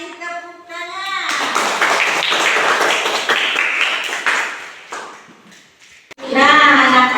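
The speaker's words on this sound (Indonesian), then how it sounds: "Terima kasih, tepuk tangan." A classroom of children clapping together in a dense burst of claps, with voices audible around it before and after.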